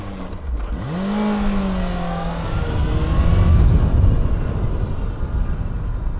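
A Yamaha FZ6 motorcycle engine under way on a mountain road, close and loud, rising in pitch as it accelerates through a gear, then a steady, rough rumble with wind noise.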